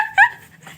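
A dog lets out one brief, high whimpering whine, close and fairly loud, followed by quiet, faint breathing-like noise.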